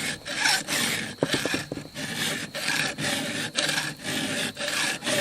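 A chainsaw chain is sharpened with a Stihl 2-in-1 file, giving repeated close rasping strokes in a steady rhythm, about one each half-second, with short gaps between passes and no voices.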